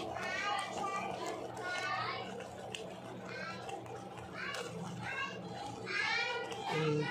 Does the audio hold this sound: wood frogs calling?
no